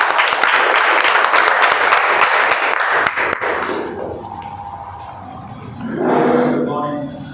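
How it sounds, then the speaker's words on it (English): Applause from a Toastmasters meeting audience, a dense loud wash of clapping for about three seconds that thins and fades, followed by a voice speaking near the end. "let's give a round of applause."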